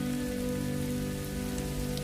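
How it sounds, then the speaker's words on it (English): A spring rain downpour at the end of the dry season, a dense, constant hiss of heavy rain beating on surfaces, loud and unbroken with no voices. "The iconic downpours wash away the layers of dust built up over the dry season."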